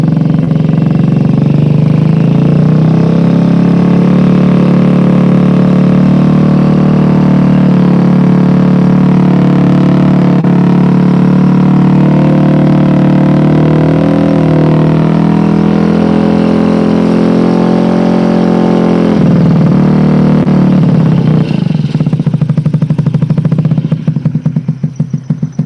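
Honda Ruckus scooter engine idling steadily up close and loud, its pitch rising and dipping through a few revs while the idle screw is adjusted, then cutting out near the end.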